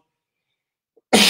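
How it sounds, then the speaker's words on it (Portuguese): A single abrupt, loud cough bursts out after a long stretch of near silence, from someone who has just choked while hosting a live broadcast. "Tossi agora porque engasguei"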